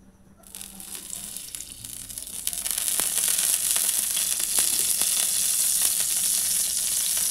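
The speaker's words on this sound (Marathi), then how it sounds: "आता त्या पॅनमध्ये मी तेल टाकून घेते" Oil heating in a pan on a gas stove for fried surmai fish: a steady hiss that rises within the first few seconds and then holds, with a few faint crackles over it and no voices.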